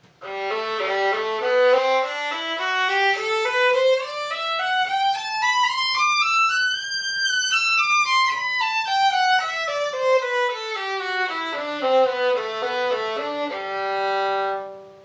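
A violin plays a scale of evenly spaced bowed notes, climbing steadily to a high peak and then stepping back down.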